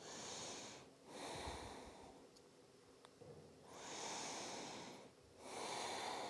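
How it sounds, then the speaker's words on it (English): Slow yoga breathing close to the microphone, with long audible inhales and exhales alternating in a calm, even rhythm and no talking. "Let's take 2 more breaths here."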